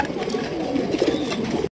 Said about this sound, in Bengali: একটা হচ্ছে নান কবুতর